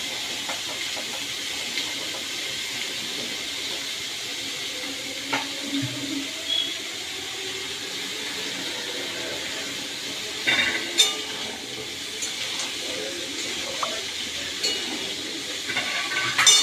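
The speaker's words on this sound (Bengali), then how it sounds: "প্রথমে একটু ভাজবো সবজিটাকে।" Mixed vegetables fry in a pan with a steady, close sizzling hiss that runs throughout, broken by a few faint clinks of a utensil, and no talking.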